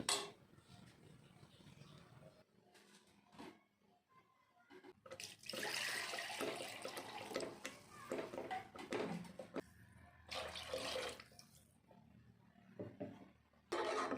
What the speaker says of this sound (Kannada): ಮಿಕ್ಸಿ ಜಾರಿಗೆ ನೀರು ಹಾಕಿ ತೊಳೆದು ಇದಕ್ಕೆ ಹಾಕ್ಕೊಬೇಕು